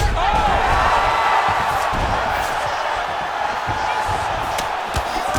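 A dense arena crowd in EA Sports UFC 5 roars and cheers steadily as a fighter gets back to her feet, a loud continuous wash of voices with occasional thuds and whoops.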